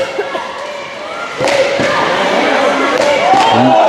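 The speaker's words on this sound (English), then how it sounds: "You heard the crowd there." Hockey crowd in an arena rising in a sudden loud roar after a near miss off a defenseman's skate by the post, a sustained swell of cheering with a commentator talking over it.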